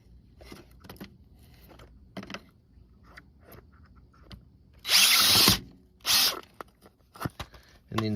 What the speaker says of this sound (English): you can drill right through it